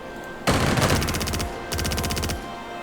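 Gunfire from a bunker in the strategy video game Strategic Mind: Spirit of Liberty comes as two loud, rapid bursts of shots, the first about a second long and the second shorter, heard alone without speech.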